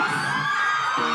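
Crowd at the Butterz Sekion Second Sunday event, whooping and cheering loudly and continuously at close range, with shouts rising over a dense, steady roar.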